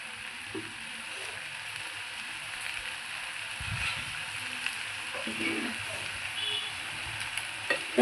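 Kurdi posto and onion frying in oil, a soft, steady sizzle with occasional light stirring scrapes and taps against the pan, fairly quiet and close.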